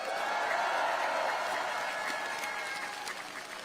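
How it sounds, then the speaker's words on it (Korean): An indoor audience claps steadily through a political speech event, a dense, continuous wash of applause that tapers off slightly toward the end. "잘하라고 박수 한번 부탁드립니다"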